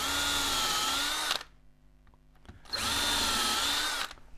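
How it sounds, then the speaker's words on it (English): A power drill bores into a wooden bowl blank to make holes for a lathe drive spur, two sustained loud bursts of whirring with a quiet pause between them. "And then I drill"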